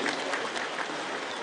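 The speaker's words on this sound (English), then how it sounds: "A good applause for them" Audience applause at a public gathering with Catholic bishops and the president, steady dense clapping from a crowd throughout, fairly loud and continuous with no talk.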